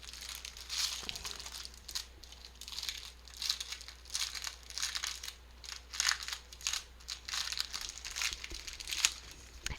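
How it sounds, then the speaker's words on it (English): Crinkling and tearing of a plastic-wrapped pack of craft paper being opened, a steady run of close, bursty rustles and crackles repeating for nearly ten seconds with no talking. "I have another pack of paper here. I'm going to have to open it up."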